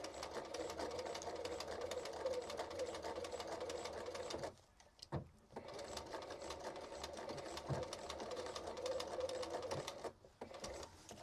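A sewing machine stitches a Victorian skirt in a steady, continuous mechanical whir that runs close and alone, stopping briefly twice before starting up again.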